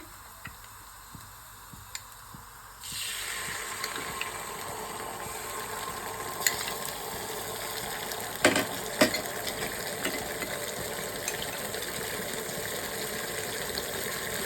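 After a few seconds of quiet, a steady sizzling starts as garlic hits a hot pan, with occasional clinks and light crackles.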